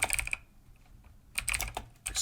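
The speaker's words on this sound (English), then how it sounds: "Excuse the clicking. I have a clicky keyboard." Rapid bursts of clicky mechanical computer keyboard typing, close and crisp, in two clusters separated by a short quiet gap, with no talking.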